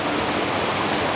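Murky water cascades down a waterfall in Chiang Mai, Thailand, a dense, steady roar filling the air without any break or voices.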